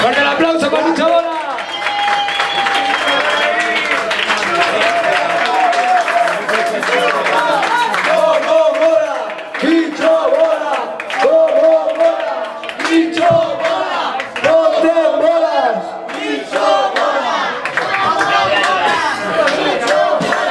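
A live audience claps and cheers loudly for a folk band at a concert, a dense, sustained burst of applause and shouts that runs throughout alongside band sound.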